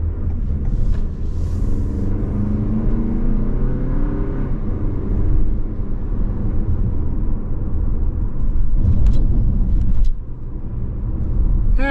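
A 2024 Toyota Highlander XSE AWD rolling down a road, a steady low tire and engine rumble from inside the cabin with a brief bump or two partway through.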